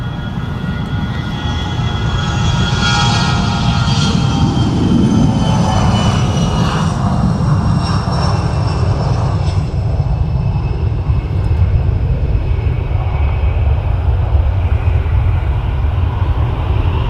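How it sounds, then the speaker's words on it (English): A rare Mitsubishi aircraft at Leeds Bradford Airport roars loudly as it passes, a broad rushing engine noise with whining tones that swells and then settles into a steady heavy rumble. "a rare plane, sorry, and it's got a unique sound by the sound of it"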